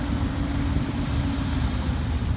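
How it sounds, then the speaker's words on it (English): A 1953 Canadian Dodge M37 army truck towing a 1969 three-quarter-ton trailer rolls past in a parade, giving a steady low engine rumble that holds at an even level throughout. "The next vehicle is a 1953 Dodge M37 Canadian. Towing a 1969 3/4-ton trailer."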